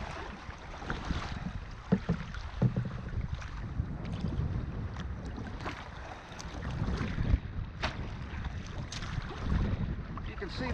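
A small boat running through 2.5 to 3 foot waves with occasional whitecaps off Drummond Island, a rumbling hull and water wash with irregular thumps and splashes, wind buffeting the microphone throughout.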